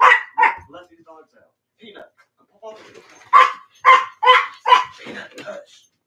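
Several dogs bark in loud, sharp bursts indoors, a cluster of rapid barks opening and another run of heavy barks later, with someone talking over and between them.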